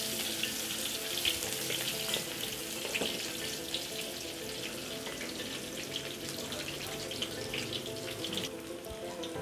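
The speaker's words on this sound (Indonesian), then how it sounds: "Lepas tu kita boleh masukkan bawang kita ya." Sliced shallots and bay leaves fry in oil with a soft, continuous crackling sizzle, faint and steady, no voices.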